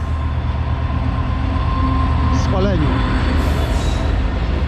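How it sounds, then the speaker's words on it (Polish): A steady rumbling passing train with faint metallic squeals rising over it, heard outdoors against constant background noise while a voice says a word. "pojechał pociąg jakiś"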